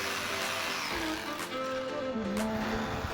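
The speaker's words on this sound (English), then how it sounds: "You need the machine to drill a hole as I'm doing" Electric drilling machine boring a hole in a plastic bucket, a whining motor with shifting pitch that rises and falls as the bit works through, close and continuous with a few sharp knocks.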